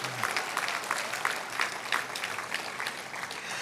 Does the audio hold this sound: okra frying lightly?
no